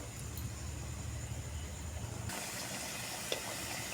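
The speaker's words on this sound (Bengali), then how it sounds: "হয়ে এসছে, টকবক করে ফুটছে।" Paneer kofta curry simmering in a pan, a continuous soft sizzle and bubbling that brightens and intensifies partway through, close and steady with a faint click near the end and no voices.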